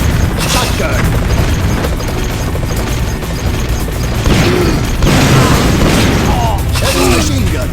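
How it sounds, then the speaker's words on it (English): Heavy machine gun in the video game Metal Slug 3D, dense rapid bursts of gunfire mixed with booms and crashes, loud and continuous, with game voices calling out over it. "Heavy machine gun!"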